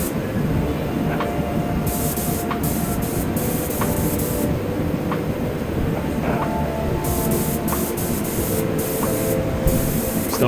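A spray gun lays paint onto the inner edges of an Alfa Romeo 155 car body in a dusty home workshop, with hissing bursts of varying length starting and stopping over a constant background drone.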